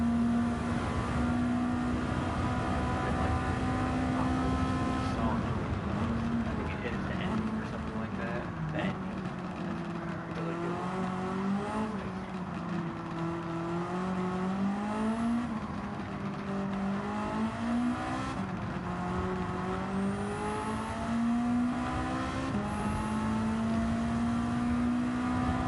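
Mitsubishi Lancer Evolution IV engine in Gran Turismo 7, a steady droning note that rises and falls through shifts and throttle changes, loud and continuous, with a voice talking over it.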